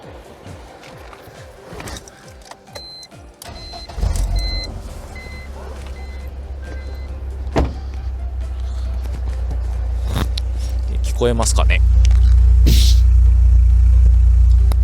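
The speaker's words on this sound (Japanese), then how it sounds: "こんな感じで割と低音重視な感じのアイドリング音で、吹かしてもそんなにっていうか全然やかましくないです。" A BMW E46 318Ci fitted with a Remus exhaust starts up and settles into a deep, low idle, then revs with a rising, swelling rumble. A person speaks briefly before the engine starts.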